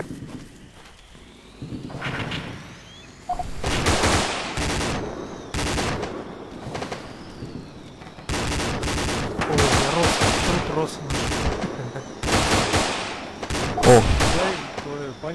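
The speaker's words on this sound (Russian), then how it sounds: "Третий БТР, обстреливайте западный блокпост." Armored personnel carrier gunfire in a military video game firing on a checkpoint at Sary Sang, heard as loud, repeated rapid bursts and volleys with brief pauses between them, fairly close and dense throughout.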